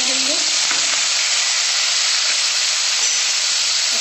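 Tomatoes and green chilies frying in a pan, a loud, steady, close hissing sizzle that fills the whole moment without pause, with no talking.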